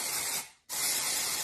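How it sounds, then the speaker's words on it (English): Batiste dry shampoo sprays onto hair from an aerosol can in two close, loud hissing bursts separated by a short gap. "And just spray, spray, spray."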